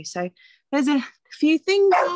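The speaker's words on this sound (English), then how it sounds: "Sorry about my dog." A dog barks several times in short, loud bursts with a few yips, close by, interleaved with a person speaking indoors.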